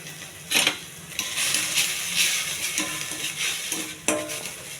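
Onions and ginger-garlic paste frying in a pan, a steady bright sizzle with a few louder scraping stirs and clinks of a utensil, close and continuous.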